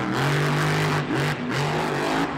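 A monster truck engine roars at a Monster Jam event in San Francisco, loud and close, revving hard in repeated surges with brief dips between bursts.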